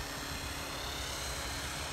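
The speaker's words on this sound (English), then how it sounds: "We are flying a helicopter" A radio-controlled Synergy E5 model helicopter styled as an MD500 flies at a local air show, its rotor and motor a steady, faint, broadband whir with no voices.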